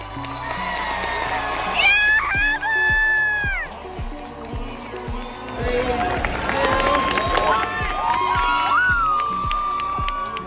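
A crowd at a wrestling match cheers and shouts loudly and steadily, with high excited voices and whistles rising above the din throughout.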